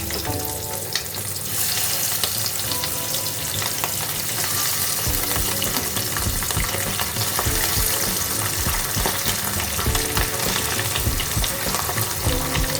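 Pieces of bata fish fry in hot oil with a loud, dense sizzle that swells once the fish goes in and keeps up a steady crackling hiss close by.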